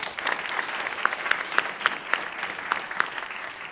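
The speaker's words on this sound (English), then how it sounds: "So a big hand for all of them." Court staff, clerks and bailiffs at a Law Day gathering in a justice center get a warm round of applause from the audience, steady rapid clapping with a few sharper individual claps, sustained and fairly close.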